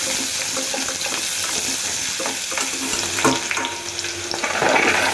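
Oil sizzles and crackles steadily in a pan as chopped onion and chilli fry for a Tamil-style kuzhambu, with a few scrapes of stirring and no talking.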